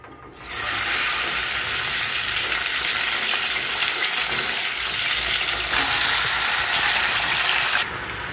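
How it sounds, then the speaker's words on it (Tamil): Chicken dropped into a ladle of hot sesame oil in a pressure cooker bursts into loud, steady sizzling that holds for several seconds and then eases slightly, with no voices over it. "நல்லா ஒரு குழிக்கரண்டி நல்லெண்ணெய் ஊற்றிட்டு இப்போது சிக்கனை போட போகிறோம்"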